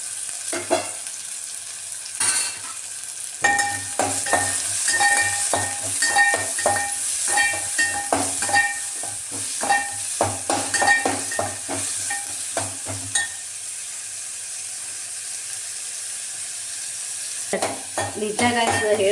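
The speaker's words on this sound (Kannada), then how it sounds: "ಈಗ ಎಣ್ಣೆ ಕಾದಿದೆ, ಹಾಕ್ತೇನೆ ಈರುಳ್ಳಿ" Two medium onions crackle and sizzle in hot oil, a close steady hiss broken by repeated scraping and stirring clatter of a utensil against the pan.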